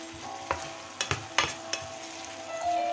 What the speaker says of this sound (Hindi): अब इसके अंदर योगर्ट जो है 150 ग्राम इसमें शामिल करेंगे और इसे आप अच्छी तरह से हिलाएं